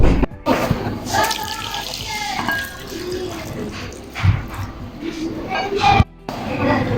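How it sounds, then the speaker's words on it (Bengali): Cut potato pieces being rinsed by hand in plain water, with steady splashing and dripping that runs through the whole stretch, briefly dropping out near the start and again toward the end. "কেটে নেওয়া আলুর টুকরোগুলো এখন নর্মাল পানিতে ভালো করে ধুয়ে নেব"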